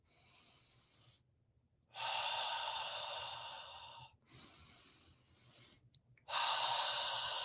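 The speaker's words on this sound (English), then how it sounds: "Alkaline breathing is when you breathe in through your nose and out through your mouth" Alkaline breathing, slow breaths in through the nose and out through the mouth, close and soft, with three long airy exhales separated by quiet pauses and no talk.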